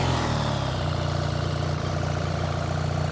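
A BMW R 1300 GS motorcycle with its stock exhaust idles steadily, a cold engine giving a loud, even, low rumble close by with no talk.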